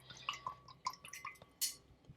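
Paintbrush rinsed in a water container during an acrylic painting session, with soft dripping, light splashes and clinks of the brush against the container, quiet and close.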